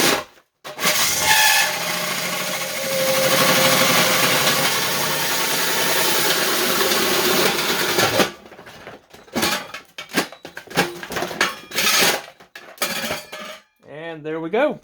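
A cordless battery drill runs at a steady, loud whine for several seconds, then stops, followed by clattering, handling knocks and short bursts while parts of a mini keg Bluetooth speaker are worked on.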